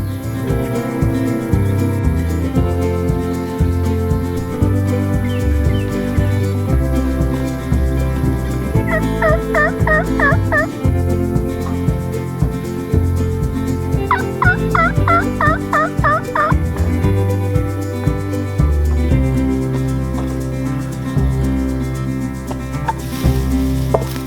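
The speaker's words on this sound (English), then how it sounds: "I hear a turkey putting out in the grass here" Wild turkey putting calls from the grass ring out close and loud, layered over a dense, busy background with no pauses.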